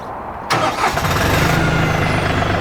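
An LS MT235 tractor fitted with a backhoe cranks and fires up after a short quiet moment, then settles into a loud, steady diesel rumble close by.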